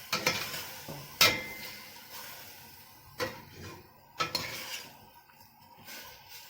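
Meat for pot kebab sautéed and stirred in a pot, a quiet sizzle broken by several sharp metallic clinks and scrapes of a utensil against the pot, close and without talk.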